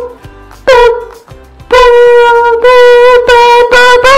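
A loud game timer sounds as a series of buzzing tonal bursts, stopping and starting in an uneven rhythm.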